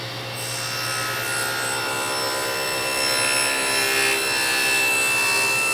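A saw draws through wood while cutting a triple miter joint on a clamped piece, making a steady, continuous rasping cut that runs without a break and holds close and moderately loud.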